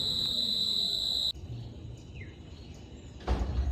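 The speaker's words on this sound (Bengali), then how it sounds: "আহ কতদিন পর এই ঝিঝির আওয়াজ শুনলাম" Crickets in a Bangladeshi village at dawn give a steady high-pitched trill that fills the first third, then fades to a quieter rural background with a faint rustle near the end.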